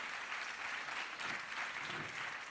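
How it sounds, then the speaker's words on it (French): Faint but steady audience applause at a French comedy show, an even wash of clapping from start to finish. "vous pouvez l'applaudir"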